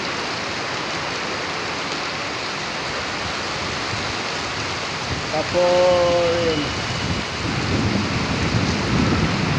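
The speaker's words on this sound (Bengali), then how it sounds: "দেখেন বৃষ্টির কতটা প্রভাব, বাতাসের গতি, সব দিক দিয়ে দেখেন" Heavy rain pours steadily through a thunderstorm with gusting wind, a continuous loud wash of downpour; a brief voice speaks over it midway, followed by a swelling rush of wind and rain.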